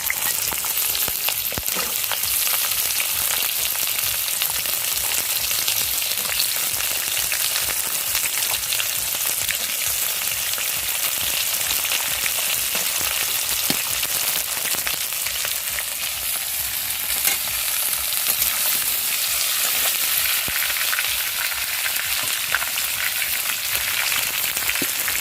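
Carrot, potato and capsicum fry in a pan with a dense, steady, fairly loud sizzle and crackle that holds evenly throughout, with occasional faint clicks and no voices.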